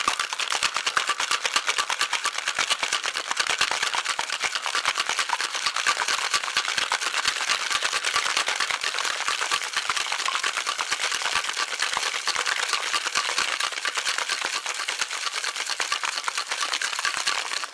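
Ice rattles hard inside a cocktail shaker as a bourbon whiskey sour is shaken, a loud, dense, continuous rattling that stays steady for the whole stretch with no talk over it.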